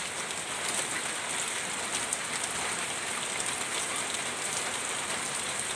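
Steady rain pours down in a dense, constant hiss with scattered drops pattering on a nearby surface, uniform in loudness throughout and with no talk.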